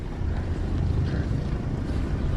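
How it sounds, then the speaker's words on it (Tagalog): Steady wind gusting outdoors beside a river during airgun fishing, a continuous low rumble and buffeting close to the microphone with no voices. "Mahangin po kasi."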